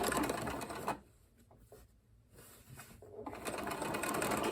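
Sewing machine stitching the side seams of a dress with a 1.5 seam allowance, running loud and steady, briefly pausing and slowing in the middle before speeding back up.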